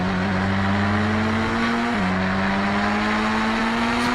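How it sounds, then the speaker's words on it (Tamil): A Rolls-Royce car engine in a video game roars loud and steady at high speed, its pitch holding near constant with a brief dip and then climbing slightly, heard alone throughout. "ஃபஸ்ட்டு பார்க்க போகிற வண்டி வந்து ரோல்ஸ் ராய்ஸ் கார்."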